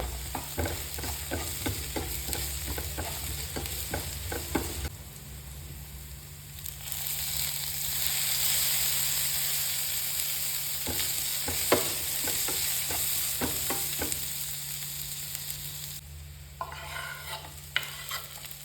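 Mutton tripe fries in a pan with cumin and pepper: a close, crackling sizzle with rapid scraping stir strokes that pause and quiet twice before resuming, and no voices.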